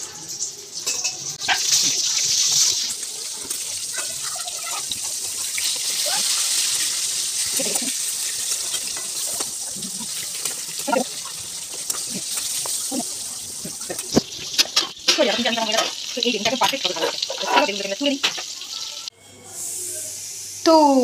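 Eggplant slices fry in a little oil in a covered pan, giving a loud, continuous sizzle that later carries on under a person talking, with clatter as the lid comes off.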